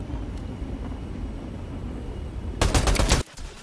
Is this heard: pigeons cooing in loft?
no